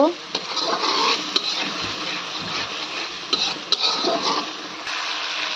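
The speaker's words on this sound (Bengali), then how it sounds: "এখন আমি মশলাটা ভালোভাবে কষিয়ে নেব।" A spoon scrapes and stirs ground turmeric, chili, coriander and cumin masala with a little water in a pan, with steady close scraping and soft sizzling throughout, broken by a few sharp metal knocks against the pan.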